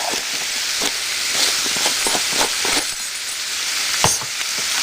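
Garlic frying in a pan for spaghetti gives a loud, steady sizzle, with a utensil stirring and clicking against the pan now and then.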